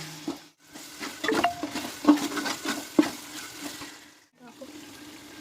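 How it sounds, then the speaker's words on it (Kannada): Ginger garlic paste fries in oil for chicken biryani, with a soft sizzle and irregular scraping stirs and clinks of a spoon in the pan, moderately close, with a brief quiet gap near the end. "ಶುಂಠಿ ಬೆಳ್ಳುಳ್ಳಿ ಪೇಸ್ಟನ್ನು ಚೆನ್ನಾಗಿ ಫ್ರೈ ಮಾಡಿ ಎಣ್ಣೆಯಲ್ಲಿ"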